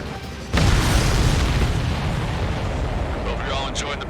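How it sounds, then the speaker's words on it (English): A missile explosion in the combat flight game Ace Combat 7 erupts with a sudden heavy boom, then a long rumbling roar that slowly decays, with faint crackles near the end. "Everybody, keep a safe distance to avoid getting caught in the explosion."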